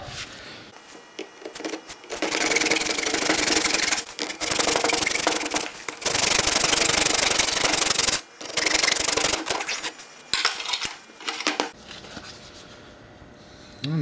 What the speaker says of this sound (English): So I'll mount it up in the vise and get to cutting. Just going to use a regular hacksaw.